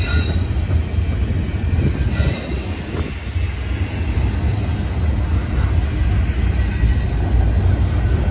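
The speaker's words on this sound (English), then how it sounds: "This train is going to the Port of Oakland." A Union Pacific freight train rolls past Emeryville Amtrak Station steadily and loudly, with continuous rumbling and high metallic wheel squeals running throughout.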